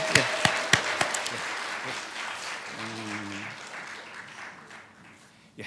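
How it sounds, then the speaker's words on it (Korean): A church congregation at Sunday worship claps, a few sharp loud claps at first, then a softer, thinning patter that fades toward the end, with a brief hum partway through. "우리 다시 한번 큰 박수로 축복합니다."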